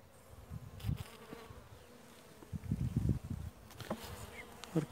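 Honeybees buzz steadily around an opened hive during an inspection of a weak colony, a close, continuous insect hum that swells in louder bursts, with no talk over it.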